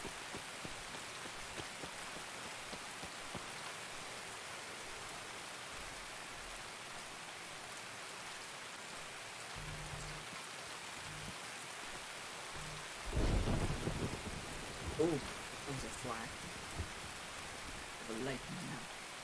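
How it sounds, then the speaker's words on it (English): Rain pours steadily in the video game Escape from Tarkov, a constant soft wash throughout, with low rumbles of thunder and a few muffled thuds near the end as people talk quietly over it. "I can't hear anything because of this rain."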